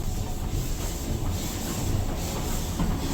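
A train rolls by with a steady, dense rumble and a faint hiss, continuous and fairly close for about three seconds, with no voices.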